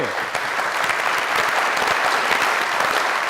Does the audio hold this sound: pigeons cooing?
no